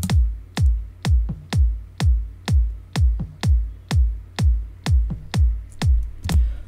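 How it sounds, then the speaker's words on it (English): Two layered kick drum samples from a producer's bootleg project thump together in a steady, repeating four-on-the-floor pattern, each hit punchy and booming with a deep decaying tail, about fourteen hits with no talk. "Both the kicks sound like this together."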